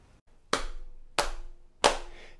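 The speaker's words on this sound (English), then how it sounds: "You clap the beat while I clap the rhythm" Three loud, sharp hand claps at a steady even pace during a music lesson on beat and rhythm, each crisp and close with a brief ringing tail in a quiet room, no speech.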